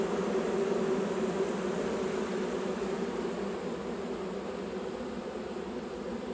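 Bees hum in a dense, continuous buzz during a hive inspection of an eight-frame white hive, steady and fairly close throughout.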